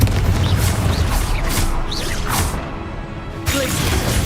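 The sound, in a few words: Confringo blasting spell in a Hogwarts video game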